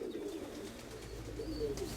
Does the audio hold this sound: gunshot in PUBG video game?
no